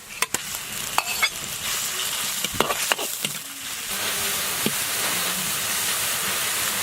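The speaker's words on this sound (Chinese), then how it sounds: "料头炒香以后下入肉末" Minced pork hits hot oil already fragrant with scallion, ginger and garlic, giving a bright sizzle broken by sharp spatula scrapes and clinks against the wok, then settling into a steady, close frying hiss.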